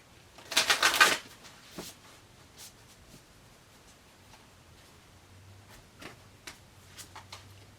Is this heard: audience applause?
no